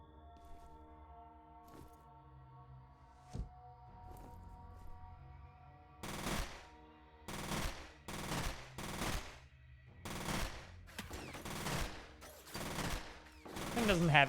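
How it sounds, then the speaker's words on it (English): Gunfire in the shooter F.E.A.R.: after a quiet stretch with a single distant shot, repeated bursts of automatic weapon fire ring out loud and close, coming in rapid clusters of several rounds each. "Might need to shoot some more bullets to find out."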